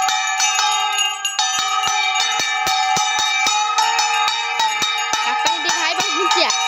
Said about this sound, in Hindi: शंख घंटा मृदंग बजाओ